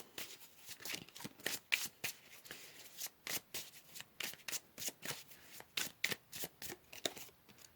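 A deck of tarot cards is shuffled by hand in a quiet room, a series of quick, crisp riffling bursts repeating in an irregular rhythm, close and fairly soft, with no talking.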